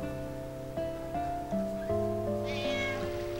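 A cat in Final Fantasy IX gives a run of stepped, tonal meows that rise and shift in pitch and play loud and close over continuous game music, with no speech.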